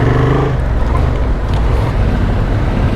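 A motorcycle engine pulls hard on a circuit, starting with a low harmonic drone that turns into a loud, rough, sustained roar as the bike accelerates close to the microphone, with no speech.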